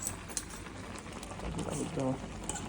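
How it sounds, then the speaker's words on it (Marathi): Maggi noodles bubble in boiling water in a pot, giving a soft, steady simmering hiss with faint popping under a person talking nearby. "बघू शकतात मॅगी बॉईल होते आपली नूडल्स"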